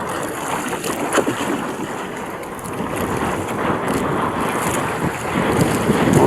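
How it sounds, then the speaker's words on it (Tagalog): Strong wind buffets a fishing boat out at sea amid rising waves and whitecaps, a steady roaring rush with heavy microphone buffeting and sloshing water, growing louder toward the end, no talking. "Malakas ang hangin guys."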